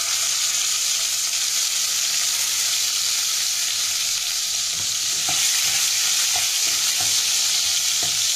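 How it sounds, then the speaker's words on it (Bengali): Chopped tomato sizzles steadily in hot oil for a Bengali tangra fish curry, a loud, even frying hiss with a few scraping stirs of the spatula toward the end. "তো টমেটো কুচিটা দিয়ে ভাজতে ভাজতে বলে একটু নুন দিয়ে দেবো।"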